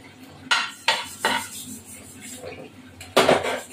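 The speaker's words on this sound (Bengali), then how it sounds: "এই জিরেটা ভেজে রেখে হাতা দিয়ে বাড়ি দিয়ে" Metal ladle banging on roasted cumin in a cooking pan, several sharp clanks in an uneven rhythm with a louder double strike near the end, close and clear with no talking.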